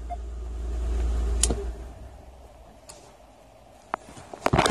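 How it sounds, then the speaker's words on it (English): A car's engine, started with a screwdriver instead of a key, rumbles low and steady before shutting off, followed by a few sharp clicks and taps close by. "And voila, that's how I start and stop the car."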